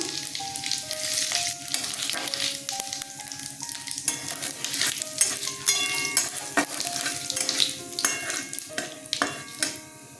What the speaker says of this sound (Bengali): শুকনো লঙ্কা দারচিনি ছোট এলাচ লবঙ্গ ফোড়ন দিলাম জিরে ফোড়ন দিলাম